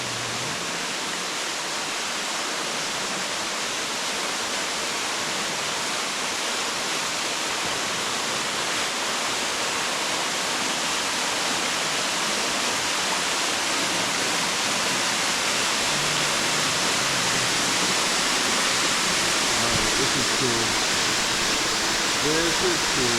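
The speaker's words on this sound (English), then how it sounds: "Waterfall number 5, and we're in behind it." A waterfall at Lake Malone, Kentucky, heard from a kayak tucked in behind the falling water: a steady, loud, broadband roar of splashing water that holds constant throughout.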